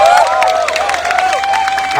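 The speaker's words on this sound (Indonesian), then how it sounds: "kasih tepuk tangan buat yang di belakang" A large crowd at a workers' protest over regional minimum wages in West Java claps and cheers in a dense, continuous wash of applause, with a loud amplified voice carrying over it.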